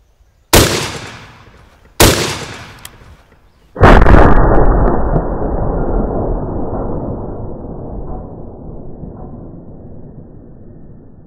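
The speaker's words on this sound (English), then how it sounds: "I've never shot one of these pig punisher rounds" Gunshots from a 300 Blackout rifle firing Gorilla pig punisher rounds outdoors: two sharp loud cracks a second and a half apart, then a heavier blast whose roar and echo decay slowly over several seconds.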